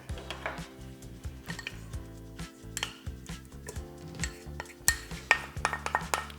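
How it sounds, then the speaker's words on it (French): Soft butter being mixed with brown sugar for crisp, gooey pistachio chocolate cookies, likely in a stand mixer: steady rhythmic knocking and scraping of a bowl with clinks of utensils, close and fairly loud, no talking. "je vais mélanger le beurre mou avec la cassonade"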